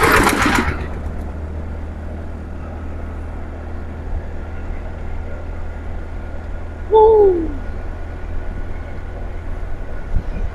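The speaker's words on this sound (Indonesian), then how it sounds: "Lah kalau ini orang kerja guys, giling padi." A rice milling machine hums steadily at a moderate distance, a constant low drone throughout, with a brief louder rasp near the start and a short squeal partway through.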